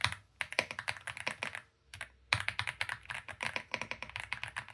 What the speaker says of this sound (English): All I know is just it's a mechanical keyboard.